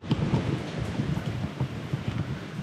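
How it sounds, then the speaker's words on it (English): Steady rain falls outdoors in Auckland, a dense, continuous hiss with soft rumbling underneath, recorded close and without talking. "Well, the rain is back."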